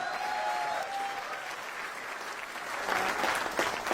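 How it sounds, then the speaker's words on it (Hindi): Audience clapping at a live comedy show, a moderate mass of claps that swells slightly near the end, fairly distant and even. "अरे मजा आ रहा है तो तालियां वालियां बजा के बताओ"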